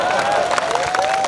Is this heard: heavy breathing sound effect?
no